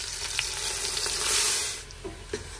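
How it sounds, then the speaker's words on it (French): Meat pieces browning with chopped onion in a pot for an Algerian chorba, giving a loud, dense, continuous sizzle up close with a few stirring knocks near the end and no speech. "je fais bien revenir donc les morceaux de viande avec l'oignon"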